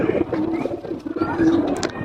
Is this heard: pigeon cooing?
yes